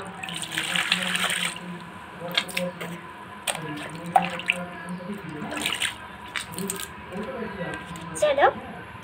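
Tap water runs into a sink while something is washed under it, with splashing and dripping heard close by and a voice talking over the flow.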